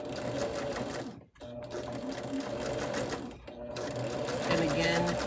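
A sewing machine runs steadily while stitching placemat fabric, its motor whirring with a rapid mechanical chatter, pausing briefly twice before resuming, close and loud under some talk.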